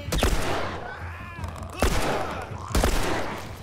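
Three loud gunshots from a headshot on an infected clicker in the video game The Last of Us Remastered, at about 0.2, 1.8 and 2.7 seconds, each a sharp close blast with a ringing decay, over a dense game ambience.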